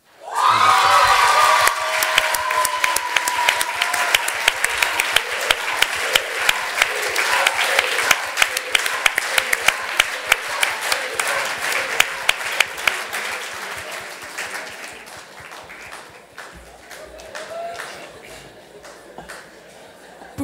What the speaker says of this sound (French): pouvez encore l'applaudir, mesdames et messieurs.